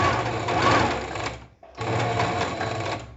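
A sewing machine stitches along the folded edge of fabric for a French seam, giving two loud, steady whirring runs of needle chatter separated by a brief pause, with no talking.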